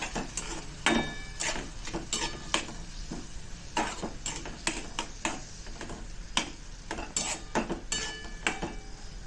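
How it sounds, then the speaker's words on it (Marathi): Spices for shev bhaji stir-fried in a pan, with a spoon clinking and scraping against the metal in irregular close taps over a faint sizzle, and no voices. "मसाले टाकून व्यवस्थित फ्राय करून घेऊया"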